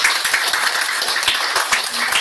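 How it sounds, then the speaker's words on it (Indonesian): Brisk, continuous audience clapping at a product presentation event, loud and close with distinct individual claps punctuating the steady patter for a couple of seconds. "beri tepuk tangan dulu dong."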